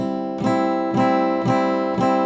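Acoustic guitar strumming the chords of a song without a capo, tuned lower; four evenly spaced strums ring out bright and full, each sustaining into the next, close and alone with no voice.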